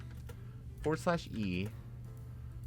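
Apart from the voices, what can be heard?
typing a DOS command on a computer keyboard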